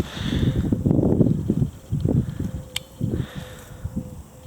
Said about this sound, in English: this wind is rough